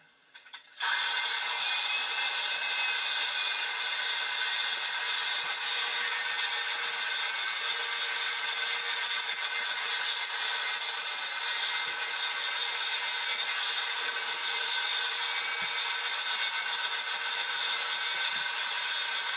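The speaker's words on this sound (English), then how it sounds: "I'm only drilling a hole." A drill bores a hole into the engine block of a 1957 John Deere 620 tractor, a steady loud whine running unbroken for many seconds, close and alone.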